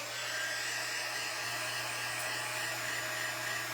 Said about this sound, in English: Okay, now I'm gonna dry.